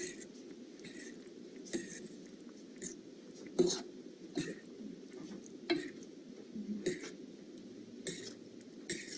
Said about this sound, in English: Here we mix the meat, the sauce, and the seasoning.